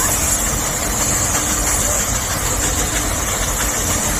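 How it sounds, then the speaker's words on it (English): A diesel tractor engine at a Whitby steam rally strains hard while pulling a weighted sledge. It gives a loud, close, continuous roar that holds steady throughout. "the sledge operator will increase the pressure on those sledge pads, making that engine work harder and harder"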